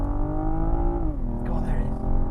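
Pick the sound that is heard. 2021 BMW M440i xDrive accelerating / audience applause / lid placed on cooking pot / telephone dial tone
2021 BMW M440i xDrive accelerating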